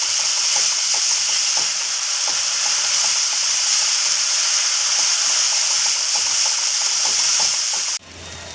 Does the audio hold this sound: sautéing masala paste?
yes